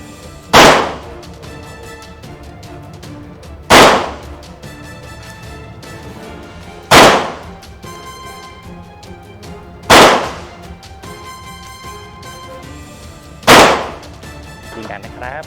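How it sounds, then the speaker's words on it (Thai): A CZ Shadow 2 pistol fires at a target about seven yards away: five loud, close single shots ring out at an even pace roughly three seconds apart, with faint room noise between them. "พร้อมแล้วเริ่มยิง"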